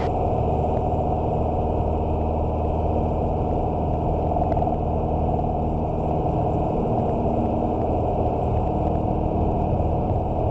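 A small airplane's engine drones loud and steady at full power throughout a takeoff roll, with no crosswind, a continuous close-up roar from inside the cockpit.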